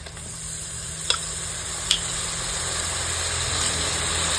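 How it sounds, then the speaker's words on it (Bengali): Ginger garlic paste sizzling in hot oil for a village-style fish curry, a steady close frying hiss with a couple of faint clicks from a utensil. "বন্ধুরা এখানে দিয়ে দেবো আদা রসুনের পেস্ট"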